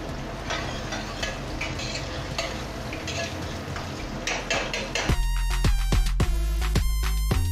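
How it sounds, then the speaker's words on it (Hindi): Green chillies and spices fry in a pan with a dense, continuous crackling sizzle and scattered stirring scrapes, close by. Partway through, the sound shifts to a louder, steadier hiss with sharp, regular spoon knocks against the pan. "अब इसको ढंग से पकाएंगे मसाले को।"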